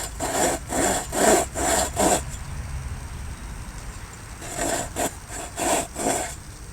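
A hand saw cuts grooves into wood for a bow drill, a run of five rhythmic rasping strokes, a pause, then another burst of four strokes, close and loud.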